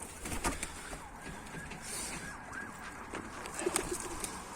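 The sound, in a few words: Mardin pigeons cooing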